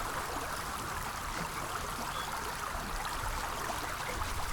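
Smooth, steady river stream ambience from game audio, water rushing continuously along a U-shaped bend, a broad even wash with no pauses or voices.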